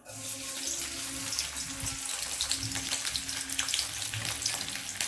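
Ginger and garlic sizzle in hot oil in a pan, a loud, steady crackling hiss close by that holds for the whole stretch with no voices over it.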